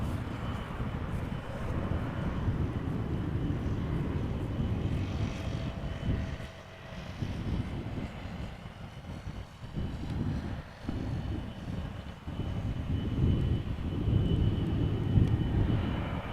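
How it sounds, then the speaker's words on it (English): Boeing 747 airliner arriving at Amsterdam Schiphol, a steady distant engine roar with wind rumble that dips briefly midway and swells again toward the end, no voices present. "I do see the 747 now in the center of the screen"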